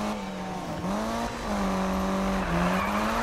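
A Mitsubishi Lancer Evo drifting in Need for Speed 2015, its engine droning steadily and shifting pitch as the tires squeal through the slide, with no one speaking.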